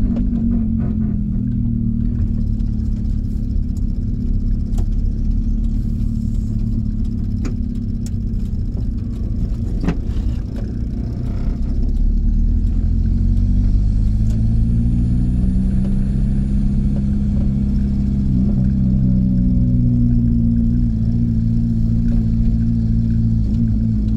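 A VW camper van fitted with a swapped-in TDI diesel engine drives along. A loud, steady low engine rumble fills the whole stretch and shifts in pitch midway as the engine works harder. No one speaks.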